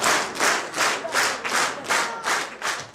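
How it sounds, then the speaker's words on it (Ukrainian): Rhythmic, loud applause from deputies in a parliament hall, swelling in regular waves of clapping with no voices on top. "депутати зустрічають оплесками"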